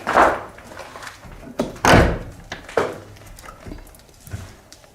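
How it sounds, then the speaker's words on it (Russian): A heavy door being forced open in an abandoned house, with several loud thuds and bangs separated by short pauses, close by and with no talking. "С трудом, но я открыл эту дверь."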